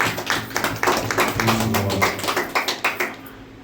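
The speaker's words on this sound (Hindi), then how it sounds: "एक अच्छा ताली बजाए प्रभु के लिए।" A church congregation claps for the Lord during a sermon, a steady run of many hands clapping together, fairly loud and close, with a brief voice in the middle and the applause thinning into separate claps at the end.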